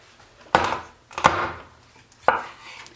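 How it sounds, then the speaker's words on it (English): Heavy knife chopping through rabbit bone on a cutting board, three sharp, close thuds spaced about a second apart with brief quiet between them. "now you get out a heavy knife"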